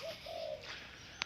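A few soft, low dove coos, followed by a brief sharp chirp near the end, fairly quiet and with no talking.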